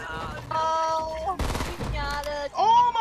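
Video-game gunfire in a tense multiplayer shootout: a short rapid burst of shots in the middle of a three-second stretch, with excited shouting and other game sounds around it.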